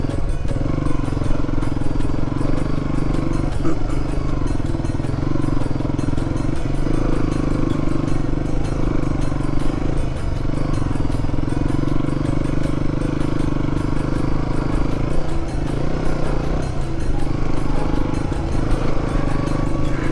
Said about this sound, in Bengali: বালিতে ভর্তি বাইকের চাকা স্কিড করছে